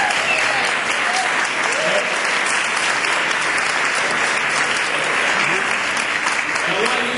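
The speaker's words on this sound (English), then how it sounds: "So give them one more time a round of applause." An indoor crowd at a 2009 address by the Secretary of the Interior in Washington, D.C. claps steadily, a dense, sustained round of applause with no gaps.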